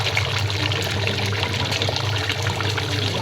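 Fresh cream pours steadily into a chicken karahi, a continuous liquid trickle with no talking.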